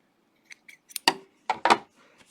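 Scissors snip through coverstitch threads on a knit hem, with a few quick, crisp cuts close up in a quiet room.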